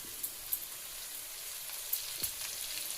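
Bitter gourd curry with tamarind water simmers and sizzles in a pan, giving a soft, steady crackle with a few faint pops.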